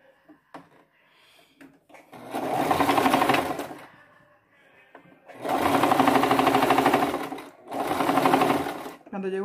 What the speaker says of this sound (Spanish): Y le voy a unir todo el contorno de la parte de arriba. Toda la parte de acá la voy a coser.